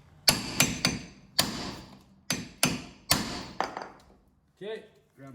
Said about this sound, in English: every time you hammer it like that, and then it'll come off